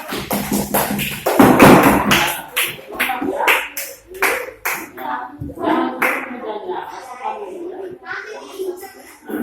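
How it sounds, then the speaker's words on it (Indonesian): A class of students claps for a group of classmates, a loud quick burst of hand claps that thins into scattered claps and taps while children's voices chatter. "tepuk tangan untuk kelompok elang"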